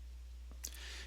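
A computer mouse click, a single faint, brief tick over a steady low electrical hum.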